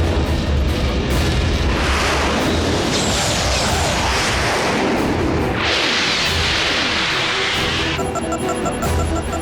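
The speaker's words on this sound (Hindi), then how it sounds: "मिसाइल से हमला?" Missile strike explosions in a Transformers: Prime cartoon, loud rumbling booms with roaring blasts that swell and overlap over several seconds, ending in a high ringing tone.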